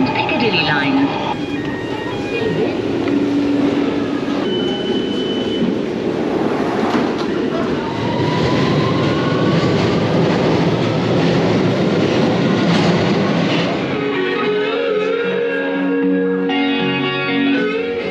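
A Lumo passenger train running on the rails, a loud continuous rumble with rattling, squeals and clatter that eases toward the end, with a voice heard over it.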